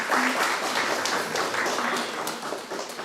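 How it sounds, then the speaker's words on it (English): Brief burst of clapping from a literary festival audience in a hall welcoming a writer to the stage, dense and fairly close, fading slightly toward the end. "Please welcome ma'am with a round of applause."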